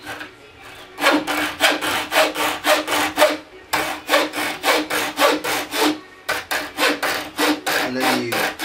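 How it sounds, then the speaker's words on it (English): Loud, rhythmic back-and-forth strokes of a saw cutting wood, steady rasping pulses with two brief pauses, close by and without talk. "And you carry on sawing when you get a grip again."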